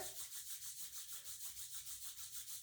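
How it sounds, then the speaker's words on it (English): Two hands rubbed briskly together, a steady back-and-forth swishing friction repeating evenly and close by, with no talking. "let's rub our hands together."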